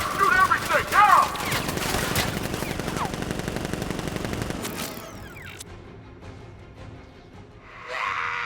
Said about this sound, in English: Gun! Open fire! Shoot everything!